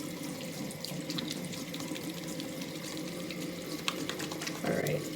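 Lukewarm water runs steadily from a tap into a sink, with an even, continuous splashing at close range and a slight shift in tone near the end.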